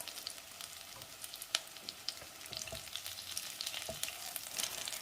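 Kanthari chicken frying over a low flame in a pan, a lively crackling sizzle with sharp pops and occasional stirring scrapes, close and alone without talk.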